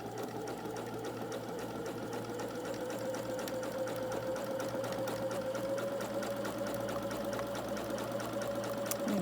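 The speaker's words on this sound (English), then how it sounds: "So I'm going to go ahead and sew that down." Sewing machine with a quarter inch foot stitching a quilt row, a steady fast close-up mechanical whir running evenly without pause, no talking.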